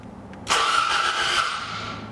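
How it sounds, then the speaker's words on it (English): A Toyota AE86 under mechanical restoration cranks briefly and then catches, bursting into a loud, close engine start that settles into a rough, steady run, with no talk over it. "So, oh, yo, it cranks."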